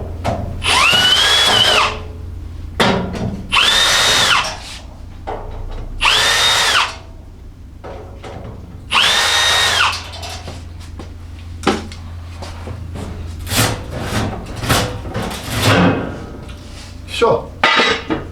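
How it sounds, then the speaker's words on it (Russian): A cordless screwdriver takes apart a Plamen Dora stove fireplace in bursts of high whirring, about four longer runs followed by short blips, with metallic clinks and handling noises between them. "Я беру шуруповерт."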